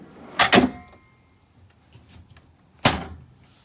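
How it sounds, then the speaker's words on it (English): A cabinet door latch inside a 2013 Winnebago Journey 34B motorhome clicks shut, with two close, sharp clicks in quick succession and then a third after a short pause. "And they're locking. You'll hear it click."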